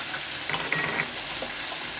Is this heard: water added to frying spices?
yes